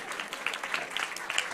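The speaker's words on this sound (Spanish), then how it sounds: "te damos un fuerte aplauso a Tanivet por haberse animado" Faint, distant applause from an audience for a panelist at a legal commission forum, a soft patter of clapping lasting only a moment.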